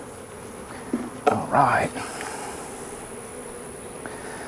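Honey bees in an opened hive buzzing in a faint, steady hum, with a brief clatter of handling at the frame and someone speaking briefly.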